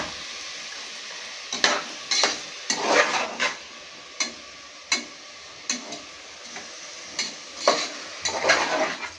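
Sliced tomatoes sautéing in oil in a pan for tomato rice, a continuous sizzle broken by repeated sharp scrapes and knocks of a spoon stirring against the pan, up close with no talk.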